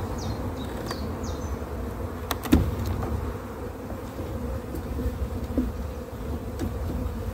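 Honeybees hum in a steady, dense drone from an open hive at a spring breeding and selection apiary, with a few sharp clicks and brief higher buzzes of individual bees passing close.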